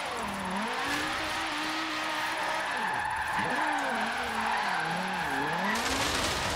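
Car drifting with no grip in Forza Horizon 3, engine note rising and falling through revs while tires squeal and skid continuously, loud and sustained throughout.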